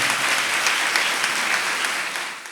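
Church congregation applauding during Sunday Mass, a dense, steady round of clapping from many hands that fades out at the end.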